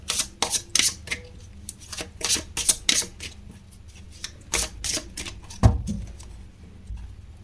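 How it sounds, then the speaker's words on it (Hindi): Tarot cards are shuffled in a quick run of crisp riffling bursts and soft slaps, close by and fairly loud, with brief pauses between flurries and no talking. "तब तक मैं कार्ड शफल करती हूँ।"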